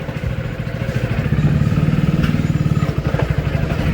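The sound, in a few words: motorcycle engine running after being washed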